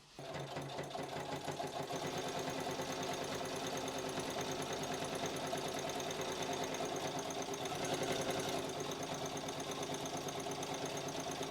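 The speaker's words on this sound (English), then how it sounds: "And I just sew this down with a nice big stitch." A sewing machine runs continuously, stitching a long line of large stitches through fabric for a kimono jacket. The motor whirrs in a steady, rapid, even rhythm, loud and close, with no talking over it.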